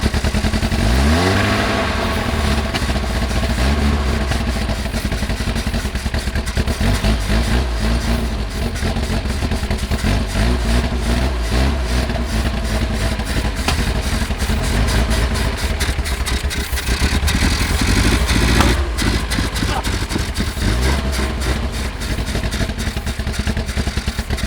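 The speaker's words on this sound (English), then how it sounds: "Running and idling" A supercar engine runs steadily at idle, a dense, loud mechanical rumble with some clatter that holds at an even level throughout, with no talk over it.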